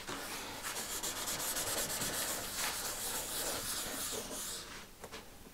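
A cloth or hand rubbing oil finish into an oak coffee-table surface, giving a steady, soft, close-up swishing friction that continues for several seconds alone, with a few brief light knocks near the end.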